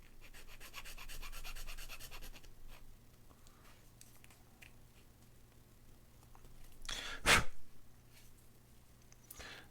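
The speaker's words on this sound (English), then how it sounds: "I'm just gonna do my best to file this flat" A file rasps a plastic part flat on a Back to the Future DeLorean scale model, giving quiet repeated rubbing strokes at first, then scattered soft scrapes and one brief louder clatter, with no talking.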